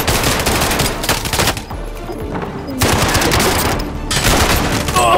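Video game gunfire comes in loud, dense bursts of rapid shots, broken by a short lull before firing resumes and continues to the end.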